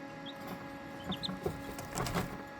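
Serama bantam chicks and pheasant-chicken chicks peep in a brooder, a few high short chirps scattered over a steady background hum, with soft clucking notes and rustling near the end.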